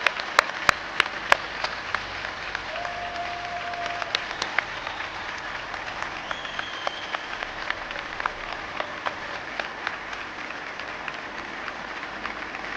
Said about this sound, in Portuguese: Uma enorme salva de palmas para todos.